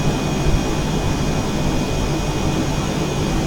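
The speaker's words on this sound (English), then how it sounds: "MiG-29 Magpie taking off runway 32." A MiG-29 jet in a flight simulator game, taking off from runway 32, with a steady loud engine roar and high whine holding constant and close throughout.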